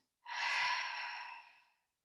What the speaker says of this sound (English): open your mouth, force the exhale out